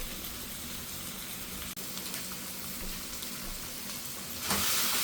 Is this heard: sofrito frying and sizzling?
yes